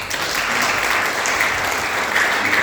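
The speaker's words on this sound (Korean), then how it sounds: "우리 잠깐만 일어나 주시면 큰 박수로 환영을 드리겠습니다" A church congregation at a Sunday worship service claps to welcome visitors: loud, close, continuous applause that stays steady from start to finish with no speech on top.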